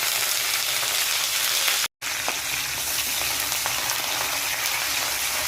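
Sliced garlic and curry leaves crackling in hot oil for a bilimbi pickle, a loud, dense, continuous sizzle close by, with a brief cut of silence and faint stirring strokes.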